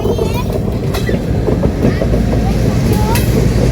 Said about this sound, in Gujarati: અને આ રેલવે આવી ગઈ છે.